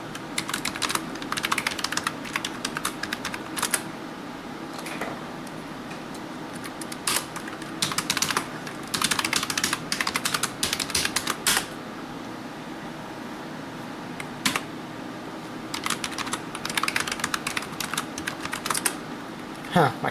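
Someone types on a computer keyboard while setting up a file server, producing bursts of rapid close key clicks separated by short pauses, over a steady background hum like a fan.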